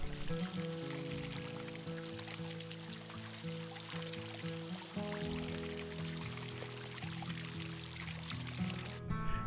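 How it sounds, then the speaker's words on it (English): A small water feature at the centre of a garden at Nymans House and Gardens trickles and splashes continuously, a quiet steady pouring sound heard up close with faint outdoor background. "at the centre, a beautiful little water feature"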